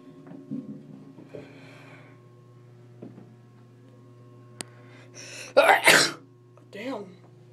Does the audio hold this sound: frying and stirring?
no